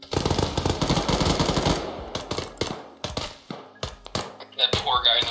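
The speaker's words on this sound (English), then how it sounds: "Oh, yep, they're firing." Gunfire rattles in a combat engagement, starting as a dense rapid burst of shots, then breaking into scattered single and short bursts, loud and close, with a voice briefly heard.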